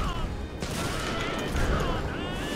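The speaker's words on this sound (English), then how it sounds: "It throws grenades." Grenades thrown from the Patriot staff in Magicka burst in rapid succession, a dense crackling volley of explosions that sounds like sustained gunfire, with voices talking underneath.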